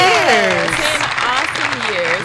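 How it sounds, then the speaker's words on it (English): Applause marking a ten-year anniversary, loud and close, with voices whooping and talking over the clapping throughout. "We got some applause for that."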